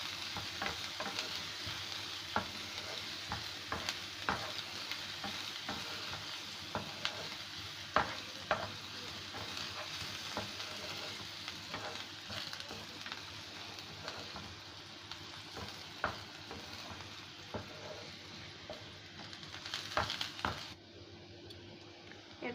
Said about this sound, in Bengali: এটাকে 1 মিনিট ভেজে নেব।